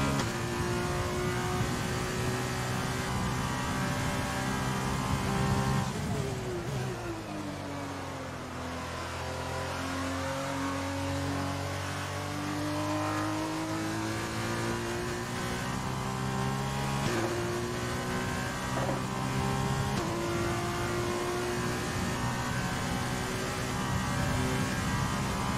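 An F1 race car engine in the game F1 2020 on a wet Monza track, a loud continuous high whine that drops as the car brakes and downshifts and then climbs again through the gears, alone throughout.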